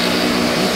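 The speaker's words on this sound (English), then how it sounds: "You can hear that pump engage" A steady, loud whirring drone of a Numatic George extractor's vacuum pump running, even and unbroken throughout.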